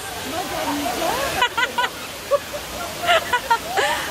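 Daranac Falls pours with a constant broad rushing roar as people chat over the water noise nearby.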